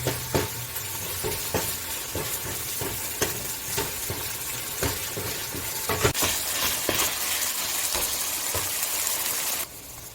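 Green beans sizzle in a hot pan with pasta sauce ingredients, a constant frying hiss broken by repeated scraping stirs from a spoon, close and moderately loud.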